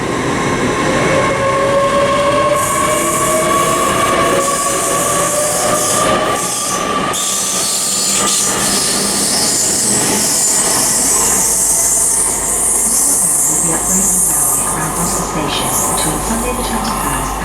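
A Great Western Railway Class 800 train pulls out of Bristol Parkway, loud and close, its rumble and rail noise carrying a rising whine and bursts of high hiss and squeal before settling into a steady roll.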